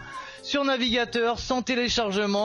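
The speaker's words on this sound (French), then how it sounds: "Vous allez peut-être entendre Fripouille qui miaule derrière moi" A pet cat named Fripouille meows several times in the room, drawn-out tonal cries rising and falling, mixed with someone speaking French close by.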